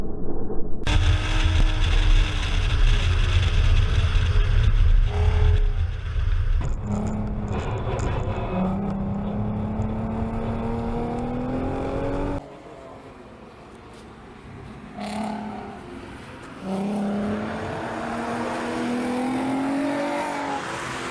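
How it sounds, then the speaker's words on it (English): A 2008 Volkswagen R32 U.S. Edition flung hard through a cone slalom on a test track, its engine revving and rising in pitch through the gears, with a brief lull before it loudly accelerates again. "You cannot be any more perfect going through these cones at that speed"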